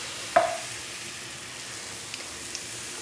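Crêpe batter poured into a hot pan, a brief pouring splash followed by a soft, steady sizzle, close and fairly quiet with no talk.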